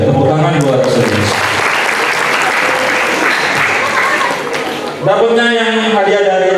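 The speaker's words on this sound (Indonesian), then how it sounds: "Oke, tepuk tangan buat Sulis." A crowd claps loudly and continuously at an Islamic boarding school event, with voices speaking just before and after the applause.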